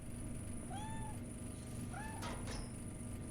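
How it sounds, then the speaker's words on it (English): A pet cat, a female, meows twice at close range in a room, two short rising-falling cries about a second apart, over a constant background hum. "This is my cat."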